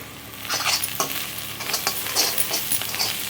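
Mixed vegetables with garam masala stirred and sautéing in a hot pan for rice, giving a steady close sizzle broken by repeated scraping and stirring strokes, with no voices.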